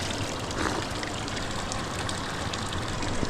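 Clean mineral water in a village stream flows and trickles in a steady, fairly loud broadband wash close by, with no one speaking.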